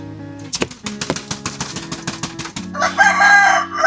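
Rooster crowing loudly and close, with a run of rapid clucking from chickens before a long crow rings out, no voices present.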